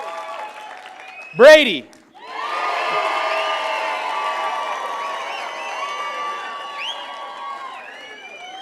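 Audience at a summit session bursting into cheering, whoops and applause after a name is called, a loud crowd swell with shouts layered over clapping that fades slowly, following a brief spoken word.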